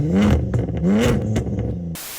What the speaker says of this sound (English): Yo, sick car, give us some revs.